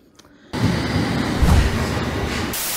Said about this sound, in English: Yeah, here comes our train now.